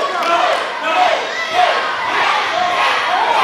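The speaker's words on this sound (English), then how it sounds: "And listen to this Emerge crowd." A dense arena crowd at a wrestling event roars and shouts continuously in a loud, steady wash of cheering.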